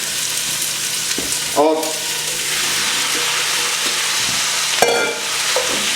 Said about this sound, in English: Then 2 pounds of ground beef.